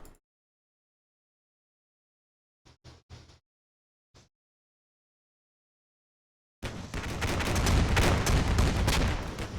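Bradley fighting vehicle firing on infantry in Combat Mission Black Sea: a few short, sharp shots spaced apart, then a sudden loud, sustained barrage of dense gunfire and explosions.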